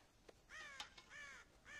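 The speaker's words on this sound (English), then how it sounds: "God damn crows!" Crows raiding a corn silo on a farm in Red Dead Redemption caw in a rhythmic series of harsh, raspy calls, four or so in a row with brief pauses between, moderately close and alone.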